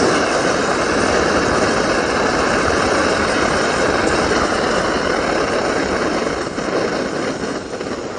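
A Primus OmniLite Ti camping stove burner roars steadily at close range, a loud, constant broadband rush like a small jet that holds level throughout with only a slight dip near the end.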